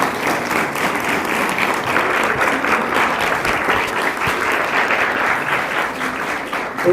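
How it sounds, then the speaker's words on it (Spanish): An audience at a Costa Rican Journalists' Day ceremony applauds a colleague with steady, dense clapping that holds loud and even for the whole stretch, with no voices standing out. "un aplauso para nuestra colega Brenda"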